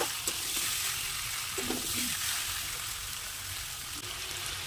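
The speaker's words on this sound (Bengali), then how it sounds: "দেখুন আমি এবার মশলার সাথে খুব ভালোভাবে মাংসটা মিশিয়ে নিচ্ছি।" Mutton being stirred and fried with spices in a pan, a steady broadband sizzle running throughout with a couple of faint utensil scrapes near the middle, no talking.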